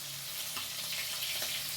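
Steady crackling sizzle of hilsa fish frying in hot oil, with soft bubbling and occasional spatters, fairly close and continuous.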